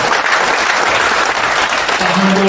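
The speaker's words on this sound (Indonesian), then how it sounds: "Tepuk tangan dulu buat Pak Handoko." A convention audience bursts into loud, dense applause for a speaker, continuous clapping from many hands filling the whole moment, with a faint tone entering at the end.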